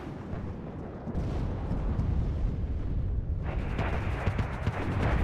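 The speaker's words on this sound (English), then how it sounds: "We're seeing mortars go up in the air" Rapid mortar and autocannon fire from the real-time strategy game WARNO, a dense continuous rumble of booms and blasts with sharper cracks joining in the second half, loud and unbroken.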